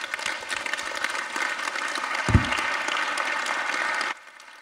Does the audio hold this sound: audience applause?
yes